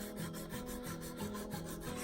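Sandpaper rubbed across the ridges of a carved wooden spiral, a quiet, close, steady rasping in regular back-and-forth strokes with no voice.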